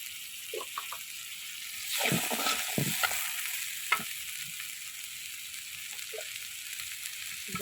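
Chopped onion sizzles in mustard oil in a pan on a stove, a steady hiss throughout with a louder burst of crackling near the middle and a few soft clicks, close and with no talk.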